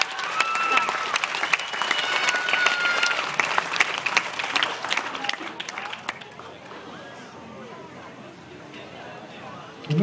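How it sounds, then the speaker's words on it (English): A crowd at a hypnotist show breaks into loud applause with cheering and chatter, and the clapping fades after about six seconds into quieter murmuring. "Give him a great round of applause,"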